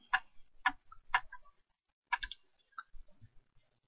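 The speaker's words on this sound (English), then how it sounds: "Right click on it." Several crisp computer mouse clicks in a quiet room, a quick double click followed by single clicks and a softer pair, close and isolated with no talking.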